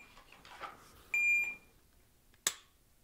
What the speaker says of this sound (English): You probably heard two beeps from my shot timer there